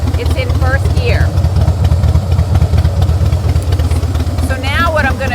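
Motorcycle engine idling while the clutch is pulled in and the bike is shifted from neutral into first gear, a steady low throbbing rumble throughout, with a voice talking over it.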